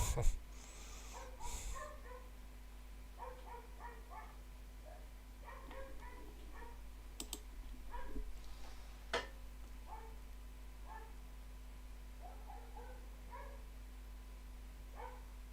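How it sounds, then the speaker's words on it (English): A neighbour's dog barks next door, faint and distant, in scattered bursts of short yips and barks over steady background hum. "Every bloody stream is that fucking dog next door."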